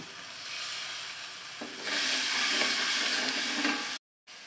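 Turmeric and chili powder fry in hot oil in a pot while being stirred. The sizzle is steady and hissing and grows louder partway through, then cuts out abruptly near the end. Nobody speaks.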